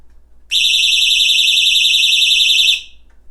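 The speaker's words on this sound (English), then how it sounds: "this is my door alarm to my stream room, whatever it's called" A door alarm on a stream room sounds once: a loud, steady high-pitched electronic tone lasting about two seconds, starting and stopping abruptly against quiet background, no talk.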